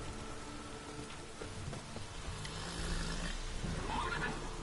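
Roach, Geralt's horse in The Witcher 3, gallops in a quiet game scene with rain falling, giving a soft patter of hooves and a brief whinny near the end.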